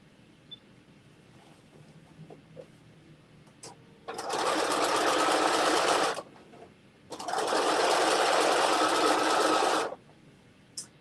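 A sewing machine stitches a dress seam in two sustained bursts, about two and three seconds long, with a quiet pause between them and faint handling noises around them in a quiet room.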